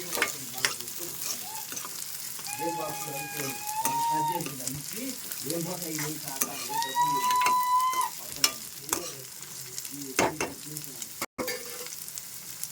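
Spine gourd (boda kakarakaya) curry is stirred in a frying pan, with a steady close sizzle, rhythmic utensil scrapes and a few sharp clanks, while a voice talks briefly over it.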